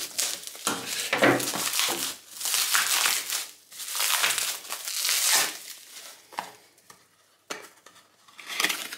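A parcel being unpacked, with plastic packaging crinkled and crumpled up close in repeated rustling bursts separated by brief pauses, no talking.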